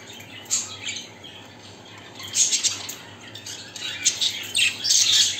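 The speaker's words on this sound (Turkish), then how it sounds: "Kuşlarımızı gösterelim." Pet birds in aviary cages where chicks are being raised squawk and chirp in repeated shrill bursts, busy and fairly close, with no talking.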